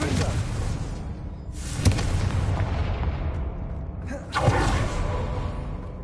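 Confringo blasting spell explosions in the Hogwarts Legacy video game: two sharp booming bursts, the second louder, ring out over a dense, constant game soundscape.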